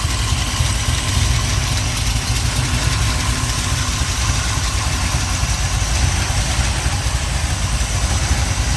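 A 1970 Pontiac Ram Air 3 stroker V8, still a bit cold on a startup stand, idles with a steady, loud, lumpy rumble and a rapid throbbing pulse throughout, close by with no talking.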